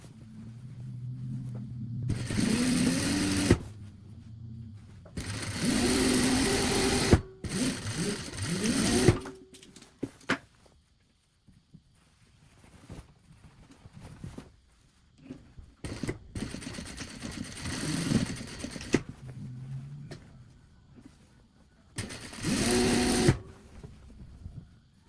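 A sewing machine stitches the sides of a fabric drawstring bag in several separate bursts of fast, whirring needle runs, each a few seconds long, with quiet pauses between them, heard up close.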